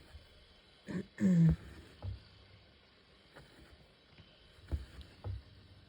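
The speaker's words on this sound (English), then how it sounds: "had a cough there." A harsh cough bursts out once nearby, with a few softer throat noises and thuds around it against quiet background hiss.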